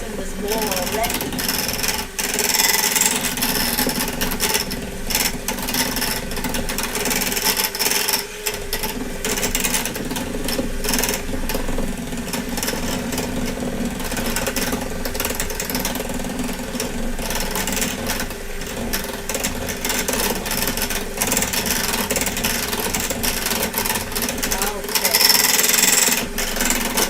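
A hand-held electric mixer whirs loudly and continuously as it beats no-bake keto cheesecake filling in a bowl, the motor drone steady with slight changes in pitch, while a person talks over it throughout.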